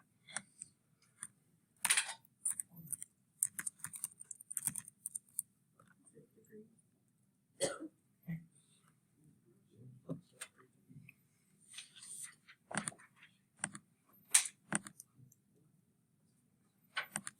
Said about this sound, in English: Let's just type that in and see what it looks like first